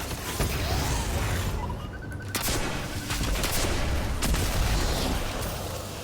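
Rapid, dense gunfire from a Destiny 2 match in a lost sector, including the Wish Ender bow, roars loud and continuous for several seconds with clicks and mechanical clatter mixed in and a brief lull near the middle.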